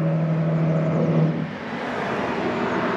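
Cars pass on a roadside road: a loud, broad rushing roar with a brief low hum near the start, then easing into steadier traffic noise.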